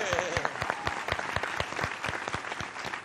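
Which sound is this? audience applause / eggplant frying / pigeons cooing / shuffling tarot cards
audience applause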